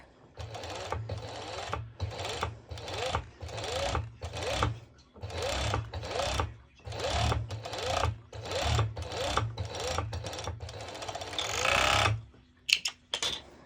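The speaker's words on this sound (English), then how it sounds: "I'm going to serge starting from the beginning" A serger runs in short repeated bursts of rapid whirring stitches while finishing the seams of a two-colour halter neck top, each run separated by brief pauses, then a few quick clicks at the end.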